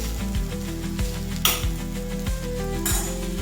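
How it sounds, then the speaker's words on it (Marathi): Food sizzles in ghee in a pan while a utensil stirs and scrapes, with clinks of metal against the pan and steady cooking noise under music-like tones throughout. "तरी आपण चांगली अशी हलवून घ्यायची"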